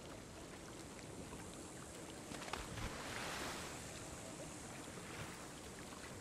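Murky water in Ark: Survival Evolved on the Scorched Earth desert map washes in a steady, dense rush, with a slight swell partway through and no voices.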